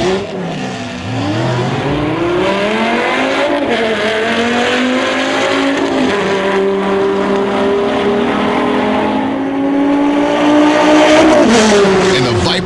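Corvette running a full NHRA quarter mile drag race at Royal Purple Raceway, its engine loud and revving through rising gear changes across the run, with a shift or two and faint voices in the background.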